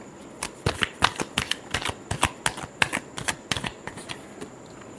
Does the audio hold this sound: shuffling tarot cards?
yes